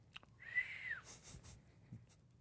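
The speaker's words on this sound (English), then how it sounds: "They really like it when you whistle." A single faint whistled note rises and slides downward, followed by soft breathy noises in a quiet room.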